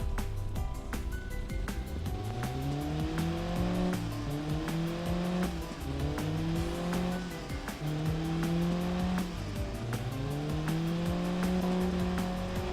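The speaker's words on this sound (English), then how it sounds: "I'm going to run up for revs again." Large engine in a dual-engine showcase run up hard to full throttle, its steady roar rising and falling through repeated rev sweeps, loud and close for the whole stretch with no talking.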